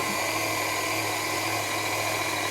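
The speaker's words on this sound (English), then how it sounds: "As the grinder is going to do all the work for us" A meat grinder runs continuously while grinding burger meat, making a steady close mechanical whine and hum that stays even throughout with no talk.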